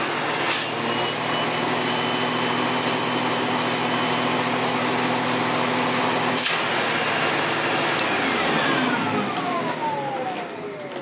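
A Sebo Automatic X4 Extra upright vacuum cleaner runs with a steady, loud motor whine close by, a brief knock partway through, then the motor winds down with a falling pitch at the end.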